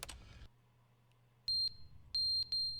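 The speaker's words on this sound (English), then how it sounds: "the fire alarm is going off. It needs the batteries need to change." A smoke alarm chirps for a low battery, with three sharp high beeps in the latter half following a brief burst of noise and a quiet hum.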